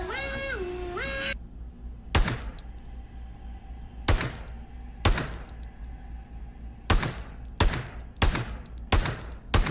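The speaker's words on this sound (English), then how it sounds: "that FN shoot like a charm, baby" FN rifle firing in Pavlov VR at a gun range: about eight loud, sharp single shots at uneven intervals, some in quick succession, after a brief tonal electronic sound at the start.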